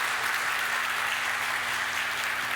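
A church congregation at a Korean Sunday worship service applauds steadily, a dense, even wash of many hands clapping throughout with no voices over it.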